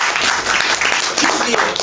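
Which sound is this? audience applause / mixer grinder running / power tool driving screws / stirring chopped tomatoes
audience applause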